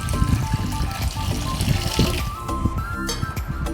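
A glass of water poured onto washed toor dal with turmeric and oil makes a steady splashing, trickling pour over faint background music.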